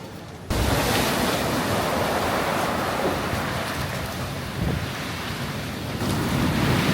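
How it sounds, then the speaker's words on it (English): Surf rushes and surges steadily into a small cave on a black sand beach on Maui's Road to Hana, loud and close, with wind buffeting the microphone and a brief quieter moment at the start. "A little cave on the beach."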